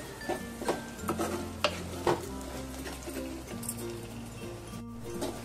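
A spoon stirs a frying Saoji dal masala with amchur powder, jaggery powder and hing in a pan, producing repeated scraping knocks over a low sizzle, close by, with no talking.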